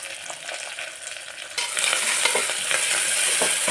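Onion, fenugreek leaves and curry leaves frying in a pan for a colocasia gravy, a steady close sizzle that grows louder and denser halfway through, with stirring scrapes and no voices.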